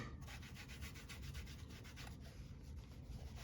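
Rhythmic rubbing of cleaner wax over the plastic of a 1970s exercise bike, with steady back-and-forth strokes close by over a low background hum and no voices.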